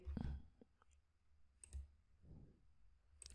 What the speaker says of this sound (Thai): คลิกตรงนี้ ดับเบิลคลิก โอเค มุมนี้ครับ เก็บดีเทลครับ ดับเบิลคลิก ดับเบิลคลิก